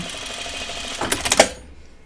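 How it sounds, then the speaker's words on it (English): A sewing machine runs a curved stitch along the edge of a pocket, a quick rattling run that swells into a few sharp mechanical bursts before cutting off into quiet. "I'm gonna do a little curve stitch here so that I can hopefully get a nice smooth curve on my hem"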